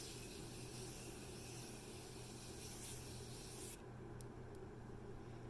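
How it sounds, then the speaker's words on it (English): A Morphe finishing mist spray bottle gives a continuous hissing spray for several seconds, then cuts off, followed by a couple of brief short spritzes. "take this Morphe finishing spray, the mist, and just go crazy."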